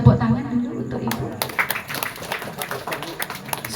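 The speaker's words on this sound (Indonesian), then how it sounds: "tepuk tangan dulu untuk ibu" Audience applause at a gathering, a burst of scattered clapping that fades as a voice talks over it.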